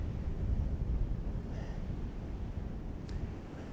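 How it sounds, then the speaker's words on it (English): Strong wind on the Giant's Causeway coast buffets the microphone with a low, gusting roar that rises and falls, with no voices. "holding onto my tripod because it's very, very windy."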